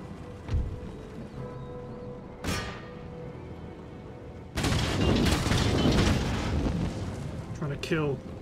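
Artillery firing shrapnel shot in an Empire Total War battle: a few scattered booms at first, then a dense, sustained rumble of cannon fire and crackling impacts, loud and continuous.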